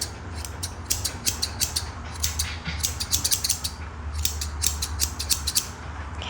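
Electric grooming clipper working around the toes of a tiny cockapoo, giving a steady low motor hum under repeated crisp, brief buzzing bursts close by, with no talking.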